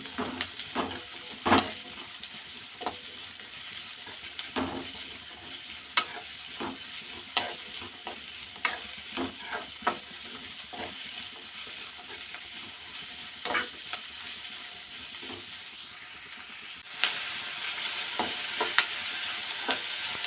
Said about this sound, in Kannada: ಈರುಳ್ಳಿ ಚೆನ್ನಾಗಿ ಫ್ರೈ ಮಾಡ್ಕೊತೀನಿ